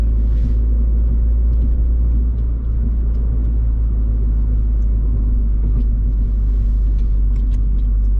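A 2017 Mini Cooper S F56 fitted with a JCW tuning kit drives at speed, a loud continuous low engine and road rumble filling the cabin, steady throughout with faint clicks above.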